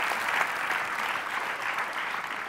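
Studio audience applause, dense continuous clapping from many people, fairly close and steady throughout.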